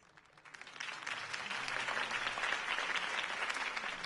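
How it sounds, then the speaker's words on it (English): Crowd applause erupts after a campaign speech, rising quickly from a quiet start into sustained, dense clapping that holds steady and fairly loud throughout. "If only Mr. Wayne, my campaign's largest backer, could have heard that applause"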